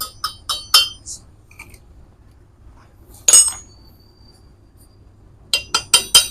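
Chipping hammer knocking slag off a fresh weld bead, sharp metallic taps in quick clusters, a run of several strikes, a pause with a brief pair of blows, then another rapid series, close and clear.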